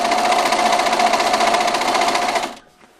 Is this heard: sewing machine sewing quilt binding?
yes